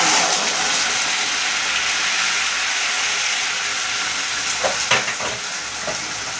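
Onions frying in a pan for chicken kofta give a loud, steady, close sizzle with a broad hiss, plus a few brief scraping stirs near the end and no talking.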